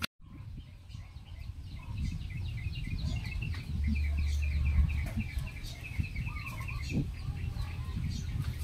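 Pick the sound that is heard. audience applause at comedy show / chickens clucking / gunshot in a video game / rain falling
chickens clucking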